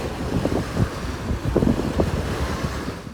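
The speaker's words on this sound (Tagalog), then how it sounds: "may nawon sa nato ang tingog sa hangin ug sa dagat" Wind and sea at the shore: blustery gusts buffet the microphone over a low rumble of waves, rising and falling in uneven surges throughout, fairly loud and close with no voices.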